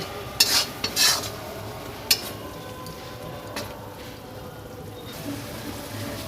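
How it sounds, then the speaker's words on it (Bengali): Spices and chicken stirred in a cooking pot in a village kitchen, a few sharp metal scrapes and clinks of the spoon early on, then faint scraping over a steady background hiss. "এই সমস্ত মশলাগুলো দেওয়ার পর একটু নাড়াচাড়া করে নেব"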